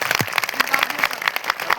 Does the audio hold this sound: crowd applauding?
yes